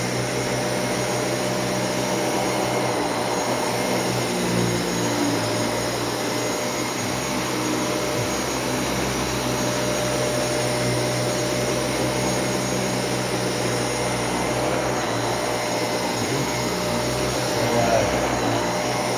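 A Dyson Cinetic Big Ball vacuum cleaner runs steadily on fine particles, a loud constant whirring roar with a high whine that stays unbroken and close throughout.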